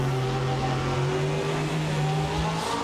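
A racing car at full throttle on the Brands Hatch circuit while closing on a Porsche, its engine a steady, loud, sustained drone with a slight rise in pitch, close and continuous throughout.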